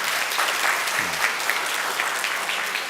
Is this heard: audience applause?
yes